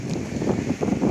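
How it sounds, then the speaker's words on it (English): Wind on a wooded prairie hiking trail buffets the microphone in a low, loud, continuous rumble that swells and dips a little over a brief moment, with no voices. "it's a little bit windy, I'm sorry about that"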